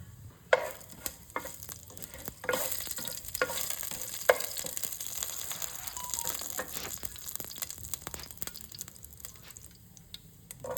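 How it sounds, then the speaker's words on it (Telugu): Tempering spices crackle and sizzle in hot oil for okra fry, with sharp pops and scraping stirs over a steady frying hiss, fairly close and loud throughout. "ఇప్పుడు ఇందులో నేను పోపు దినుసుల్ని యాడ్ చేసుకుంటున్నాను"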